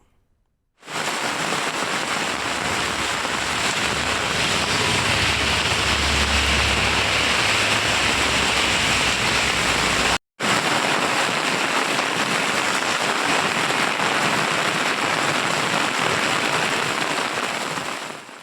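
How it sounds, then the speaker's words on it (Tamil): Heavy rain pouring down in Mannargudi, Tiruvarur district, a dense, constant roaring hiss that stays loud and unbroken throughout, with only one very brief cut midway. "மன்னார்குடி மற்றும் சுற்றுவட்டார பகுதிகளில் கனமழை பெய்து வருகிறது"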